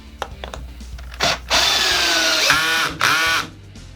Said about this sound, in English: Let me drill this one in.